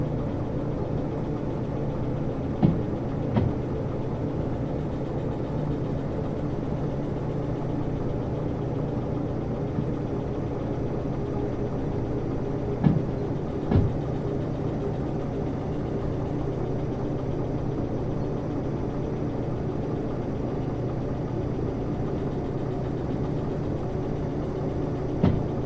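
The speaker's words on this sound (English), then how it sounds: "The sound of the engine working so hard" A heavy train engine drones steadily and low, straining, with a few brief clanks standing out now and then; no voices are heard. From the video game Derail Valley.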